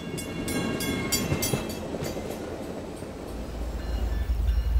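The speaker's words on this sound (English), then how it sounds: "the train's head end is a diesel engine" An Iowa Interstate Railroad diesel freight train rumbles past with steady rail clatter and a deep low-end roar that swells toward the end.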